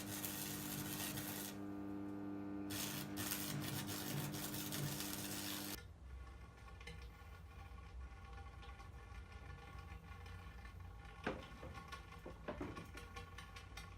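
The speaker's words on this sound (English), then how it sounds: "So we've got a decent weld on there" A clamped metal pipe for a fire poker is being welded, giving a steady, fairly faint buzzing crackle that runs on without pause and shifts slightly in tone midway.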